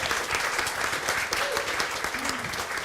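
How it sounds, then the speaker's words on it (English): Studio audience applause on a comedy show, steady dense clapping throughout at moderate level, with faint voices murmuring beneath. "Give them a big round of applause."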